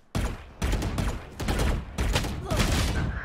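Rifle fire from a Phantom or Vandal in the game Valorant, several short bursts and sprays in quick succession, loud and close, with no talking.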